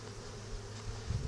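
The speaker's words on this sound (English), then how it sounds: "Wow, there's actually a lot of bees down there too." Honey bees buzz steadily in an opened hive during an inspection, a faint, continuous low hum that swells slightly toward the end.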